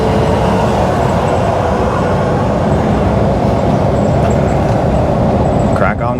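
Steady road rumble from inside a moving vehicle as a van passes, a continuous broadband roar without clear breaks, loud and close throughout.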